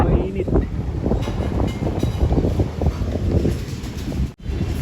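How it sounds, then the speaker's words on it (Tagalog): Strong wind buffets an outdoor microphone at a pigeon loft on a cool morning, a loud, steady roar that persists throughout with brief gusting surges. "Malakas yung hangin."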